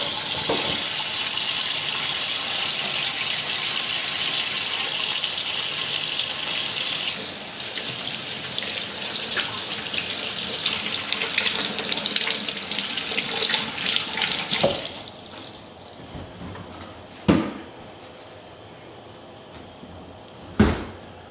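Tap water runs steadily into a kitchen sink while hands are washed after handling raw chicken, a continuous close splashing that cuts off midway, followed by a few sharp clinks and knocks in the quiet.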